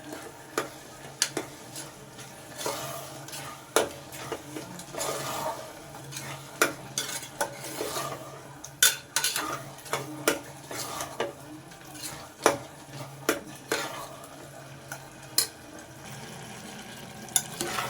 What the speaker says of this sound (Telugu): ఇలాచీ పౌడర్ వేసిన తర్వాత మంచిగా ఒకసారి మిక్స్ చేసుకుందాం